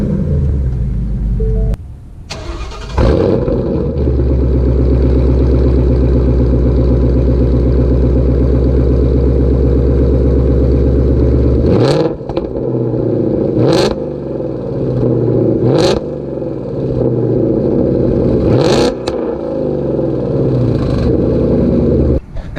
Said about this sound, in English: My second favorite thing about the car is the exhaust system, which, like I said earlier, was a Borla Attack catback.